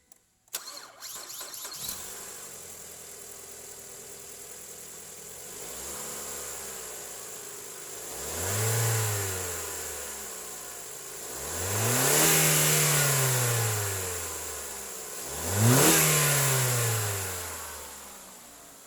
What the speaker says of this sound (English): 2015 Ford Fusion, mileage